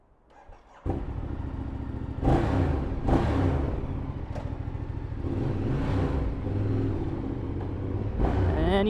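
A Ducati Diavel motorcycle with keyless ignition starts with a sharp catch, then settles into a loud, close, rumbling idle, with a few blips of revving rising above the steady engine note, and no talk.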